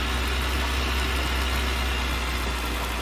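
A tractor engine works hard uphill while ploughing grass to clear soot from its exhaust, a steady, loud, low rumbling drone with constant vibration and no pauses.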